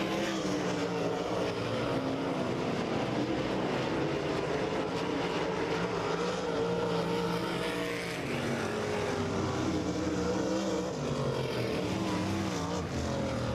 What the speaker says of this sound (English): We're green flag racing with the Power Eye Midwest Lightning Sprints rolling into turns number 1 and 2.